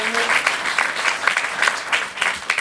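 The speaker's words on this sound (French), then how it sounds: "Vous pouvez l'applaudir quand même." A theatre audience at a stand-up comedy show applauds, a dense close wash of clapping with a few louder individual claps, briefly carrying over a faint voice at the start.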